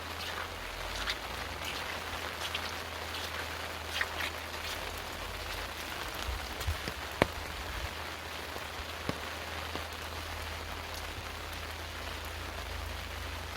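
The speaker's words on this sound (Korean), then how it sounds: "오늘 비가 와서 산행은 못할 것 같고" Steady rain patters on a vegetable garden in Jeongseon, Gangwon Province, a continuous close wash of drops with occasional sharper single drips, no voices.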